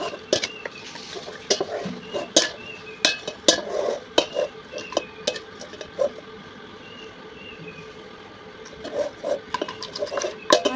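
Raw beef mixed by hand with ginger-garlic paste, tomato, onion, chopped green chili and spices in a pot, with soft wet squelching, patting and scraping in an uneven rhythm, close up, and a few clinks of the vessel.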